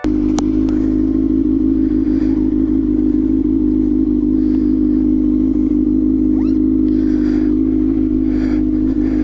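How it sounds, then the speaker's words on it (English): A 2019 Kawasaki ZX-6R motorcycle with an SC Project titanium slip-on exhaust idles steadily with a loud, deep exhaust drone and constant low throb, close by, with a few light clicks over it. "if you can't already hear it, exhaust is on. SC Project titanium."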